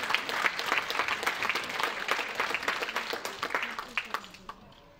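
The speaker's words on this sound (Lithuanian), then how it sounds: "O dabar jiems audingi plojimai ir pasakymas ačiū už tai" An audience at an international circus festival competition gives sustained applause, dense clapping that carries a few seconds and then thins out as it fades, with a voice speaking over it.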